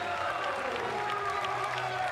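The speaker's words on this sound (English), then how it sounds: "Crowd is going nuts" Crowd noise at a Red Bull skateboarding contest, with steady cheering and applause filling the venue after a winning run, dense and continuous with a commentator-like voice mixed in.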